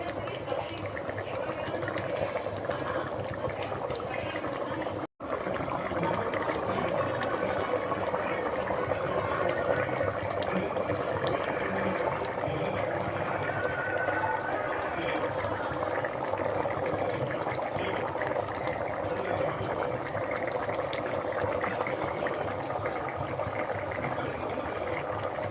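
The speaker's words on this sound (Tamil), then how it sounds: "இப்போ நல்லா கொதிச்சிருச்சு." Peas and potato masala bubbling steadily in a pan on the stove, a continuous close simmering hiss and burble that runs evenly throughout, with a brief dropout near the start.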